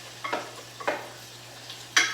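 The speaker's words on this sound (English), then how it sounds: "Stir it all around. And I just want the onions to get tender, or sweat, if you will." Onions stirred in a hot pan while they sweat, with three scraping strokes of a utensil over a soft steady sizzle and a low hum beneath, no talk.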